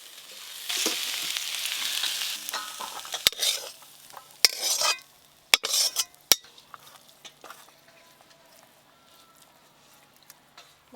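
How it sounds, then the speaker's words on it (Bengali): Note greens (amaranth) are stir-fried in a pan, oil sizzling loudly at first while a utensil scrapes and stirs, then the frying fades to quieter clinks and scattered taps. "নোটে শাকগুলো একদম ঝরঝরে করে ভেজে নিয়েছি"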